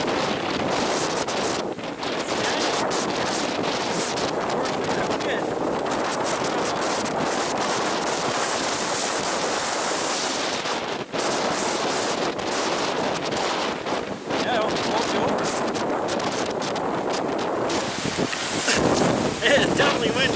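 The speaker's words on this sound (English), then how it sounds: "It's definitely windy." Strong wind gusts across the sandstone cliffs above Lake Superior at Pictured Rocks, Michigan, a loud continuous roar buffeting the microphone with surf washing below throughout.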